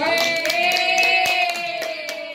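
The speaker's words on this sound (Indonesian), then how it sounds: "Aplaus untuk kita semua." Audience applause at a teachers' dissemination session; a short burst of scattered hand claps over a sustained tonal background, fairly close and moderately loud, tapering off toward the end.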